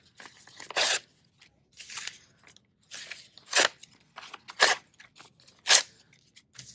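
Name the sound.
tearing old paper pages into small strips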